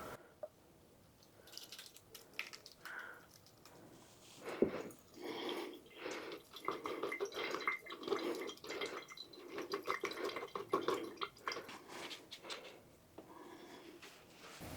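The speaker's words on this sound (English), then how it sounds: "I have a fine mesh strainer, and I'm going to strain it through a funnel." Homemade hot sauce strains through a fine mesh strainer and funnel in a kitchen, giving soft, irregular drips and trickles that come in quiet bursts after a silent start.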